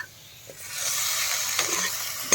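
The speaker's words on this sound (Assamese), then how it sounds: "এতিয়া মই কেৰাহীত ধুনীয়াকৈ ভাজি আছোঁ গাহৰি মাংস।" Pork frying dry in a kadai with onion and no added oil, a close steady sizzle that swells after a quiet start, with a few light stirring knocks.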